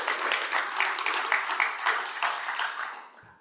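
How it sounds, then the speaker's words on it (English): Audience at a golf tournament gives a warm round of applause, dense steady clapping from a crowd that fades out near the end. "So we'll give you a little round of applause"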